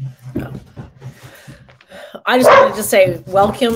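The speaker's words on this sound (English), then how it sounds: "I apologize for my dog in the background." A pet dog barking and yipping in the background of a virtual opening ceremony, with short sharp barks under someone speaking, growing louder toward the end.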